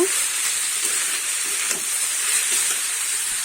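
Vegetables seasoned with turmeric sizzle and fry in a pan while being stirred, a steady close hiss with faint scraping, no voices.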